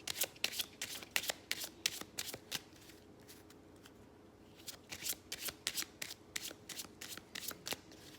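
Playing cards shuffled by hand for a tarot-style pick-a-card reading, a close rapid riffling and bridging that repeats in quick bursts with short pauses between, heard alone without speech.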